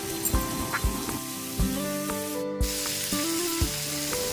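Amaranth leaf chutney being stirred with a ladle in a pan, giving a steady low sizzle with regular soft scraping strokes roughly every half second to second, close and alone without talk.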